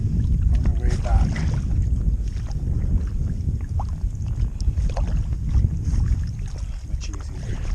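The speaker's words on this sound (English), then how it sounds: "I paddle downstream on the way back" A canoe is paddled downstream on a river. Irregular, close splashes and water swishes mix with gusting wind rumble across the microphone.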